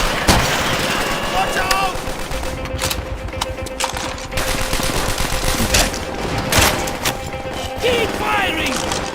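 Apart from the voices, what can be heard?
gunfire from a video game battle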